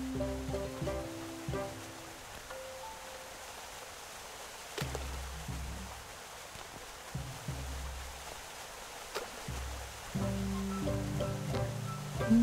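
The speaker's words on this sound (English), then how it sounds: "It's just raining now?" Rain in the video game Snufkin: Melody of Moominvalley, a faint steady patter running under soft in-game music tones that rise and fall throughout.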